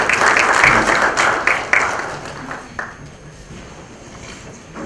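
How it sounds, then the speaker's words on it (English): Warm applause from the audience at an HR conclave welcoming a speaker, dense clapping that is strong at first and then thins out and fades toward the end. "Warm round of applause."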